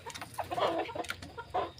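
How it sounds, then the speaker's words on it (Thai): A six-month-old chicken clucks in several short, uneven bursts close by, with scattered fowl calls and faint farmyard background between them. "เจ้าลายน้อย ไก่ ซึ่ง หกเดือนครับ"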